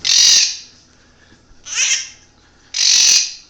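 A pet blue-crowned conure or quaker parrot gives three loud, close, raspy screeches. Each screech lasts about half a second, with quiet gaps between them.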